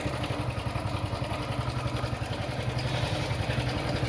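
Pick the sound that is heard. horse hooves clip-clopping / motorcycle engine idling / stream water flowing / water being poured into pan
motorcycle engine idling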